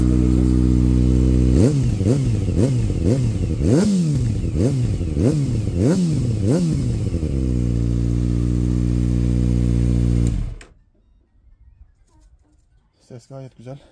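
Kawasaki ZX6R sport bike fitted with a Scorpion RedPower slip-on exhaust, running on a still-cold engine: a loud steady idle broken by a string of sharp throttle blips, then settling back to idle before cutting off abruptly.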